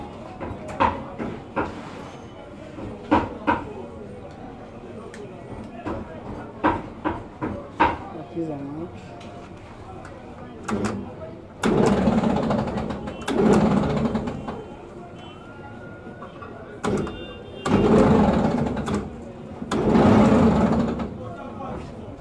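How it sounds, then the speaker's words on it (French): A poultry feed grinding machine in Brazzaville, milling maize, wheat and palm oil, is started. Intermittent knocking and clatter give way to loud rough grinding bursts, with people talking nearby. "on va mettre en marche la machine pour voir comment"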